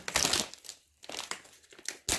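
Close, loud crinkling and tearing of a Russian single-meal MRE ration pouch opened from the bottom tear notch, coming in several rough plastic-foil bursts separated by brief pauses.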